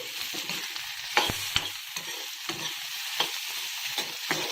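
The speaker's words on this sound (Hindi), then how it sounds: "बिल्कुल मीडियम आंच पर रखकर भिंडी को हम जो है पकने के लिए छोड़ देते हैं।" Okra frying in a pan over a medium flame, a steady close sizzle with a few sharp clinks and scrapes of a utensil against the pan, alone with no talk.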